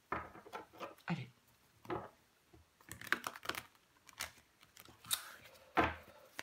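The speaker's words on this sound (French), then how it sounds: "On va recouvrir des cartes." Tarot cards being turned over and laid down during a reading: a series of soft, dry card flicks and slaps at an irregular pace, close and fairly quiet, with no talk over them.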